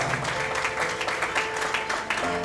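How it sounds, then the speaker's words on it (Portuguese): Church congregation applauding for Jesus in a dense, steady burst of clapping that fills the room, with a few voices and a faint tonal hum underneath. "Uma salva bem forte para Jesus."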